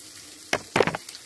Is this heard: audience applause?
no